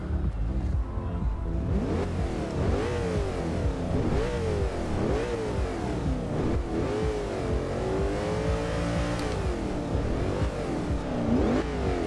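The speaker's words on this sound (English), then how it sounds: "Now let's see if I can really hear that supercharger." A 2005 Mercedes-Benz SLR's supercharged engine revs continuously in the Forza Horizon 2 racing game, rising and falling in steady pitch sweeps with no talk over it.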